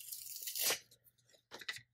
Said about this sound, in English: pull off these sticky notes from the paper.